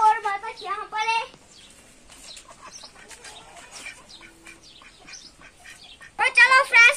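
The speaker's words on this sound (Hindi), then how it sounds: "बतख यहाँ पर है" A duck quacks in repeated nasal bursts near a home poultry yard where chickens roam, loud at the start and again at the end, with quieter rustling between.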